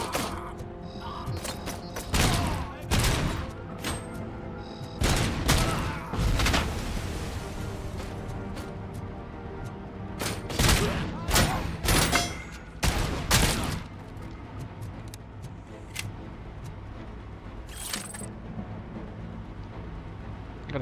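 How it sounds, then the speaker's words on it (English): Video game gunfire in RoboCop Rogue City: repeated loud bursts of automatic fire and heavy shots in clusters, separated by brief lulls over a steady background of game ambience and music. "I think I was shooting through his hair."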